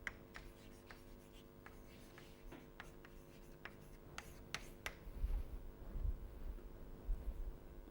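Chalk or marker writing during a physics lecture on instantons comes through as a series of short, faint scratchy strokes in irregular bursts over a steady background hum, with some low thumps toward the end.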